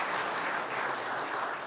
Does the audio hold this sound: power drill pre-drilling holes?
no